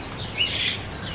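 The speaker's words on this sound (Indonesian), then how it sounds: "Nah, ini emprit kaji" A caged emprit kaji bird at a bird-selling kiosk gives one brief, bright chirp over soft background noise.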